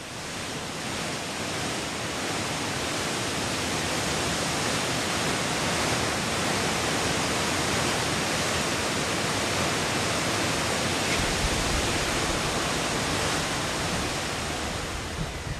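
Cascading waterfalls in a cold Chilean rainforest pour out a dense, constant roar of rushing water that stays steady and loud throughout, with no voices.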